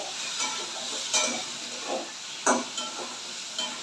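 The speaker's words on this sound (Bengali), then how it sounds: "টমেটো দুটো দিয়ে দিলাম এবার আবার ভালো করে নেড়ে" Tomatoes being stirred into a Bengali fish kalia in a pan, giving a steady sizzling hiss broken by a few scraping spatula strokes, close and moderately loud with no voices.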